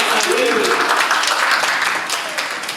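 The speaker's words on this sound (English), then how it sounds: "Round of applause for these guys." A workshop audience at a cooperative branding session applauds a presenting group, with dense, steady clapping that stays close and loud for nearly three seconds and eases off slightly at the end, with some voices mixed in.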